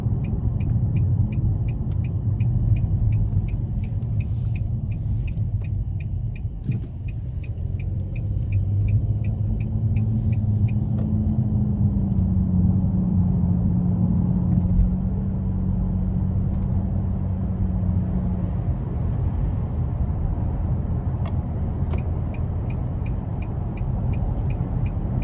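A 2022 Nissan Maxima SR cruising on the interstate in normal mode, heard as a steady, loud cabin rumble of engine and road noise that continues without a break and with no voices.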